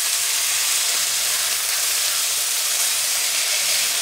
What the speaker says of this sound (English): Okay, now I'm going to dump this beans in.